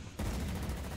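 Dense, continuous rattle of gunfire aimed at a tank in a wartime strategy game, a loud sustained barrage starting abruptly after a brief quieter lead-in and holding steady to the end.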